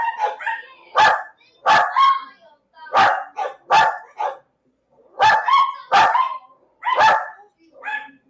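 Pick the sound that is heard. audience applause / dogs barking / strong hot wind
dogs barking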